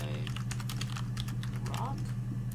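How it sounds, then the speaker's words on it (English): Rapid clicking of a loud computer keyboard being typed on, steady close keystrokes over a constant low hum, with no voices. "I've got a loud keyboard in here"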